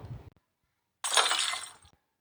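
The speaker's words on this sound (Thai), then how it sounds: "ก็มีเสียงตกแตกดังมาจากในเรือนทันที" Something falls and shatters inside a house, a single loud crash of breaking glass or crockery lasting under a second, preceded by a brief low thump and then silence.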